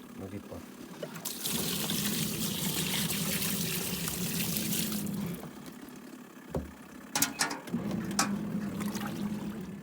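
Wood-heated hot water is poured by hand into a pulsator washing machine at an off-grid Nordic island home: a steady, close splashing pour that stops briefly, then resumes with sloshes and drips, while people talk.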